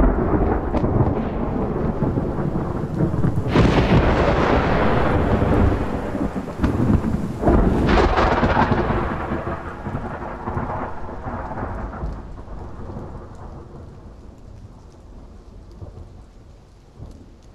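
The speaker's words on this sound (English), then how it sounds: "It's time for the thunder to return and awaken the living world." Heavy rain pours steadily while loud thunder rumbles and cracks overhead, with two sharp crashes early on, then slowly fades to a softer, distant roll as the rain continues.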